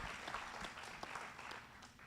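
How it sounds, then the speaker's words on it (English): A town hall audience applauds after a land use panel, a steady wash of many hands clapping throughout, moderately faint and heard alone without talk. "round of applause for Melanie for leading us through the panel"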